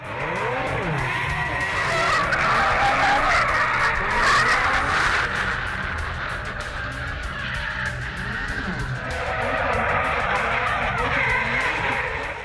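Drift car spinning at an Australian drifting event, engine roaring continuously with long tire squeal and skidding rising and falling over the run, loud and close throughout.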